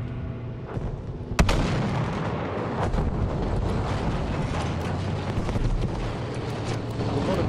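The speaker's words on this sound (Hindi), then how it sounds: "गोलियां पड़ रही हैं राइट से देखो" Dense gunfire and explosions in the video game Battlefield 5, with one sharp loud blast early on and continuous rumbling combat and shots throughout.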